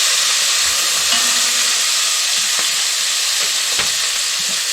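Chopped onions fry in a pan as the base for chicken curry, a loud, steady close-up sizzle and hiss with a few faint clinks from stirring, no voices.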